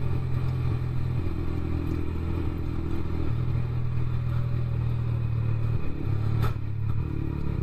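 A motorcycle rides a bumpy, winding mountain road in Ladakh, its engine droning steadily with shifting pitch, wind roar and occasional clattering jolts throughout.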